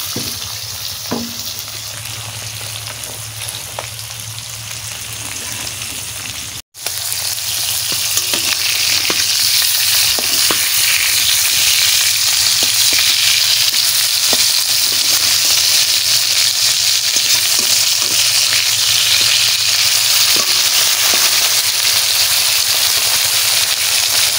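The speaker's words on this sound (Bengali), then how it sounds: "এই দেখো মাছের মাথা আমি ভাজা বসাই দিচ্ছি" Fish head frying in hot oil sizzles loudly and steadily for a long stretch, with dense crackling and a brief break early on, close to the pan.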